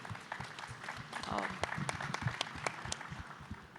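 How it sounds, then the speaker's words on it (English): Audience applause for the Cypher team at a panel discussion in India: a short stretch of scattered clapping and crowd noise, mixed with a voice speaking over it. "big round of applause to the Cypher team"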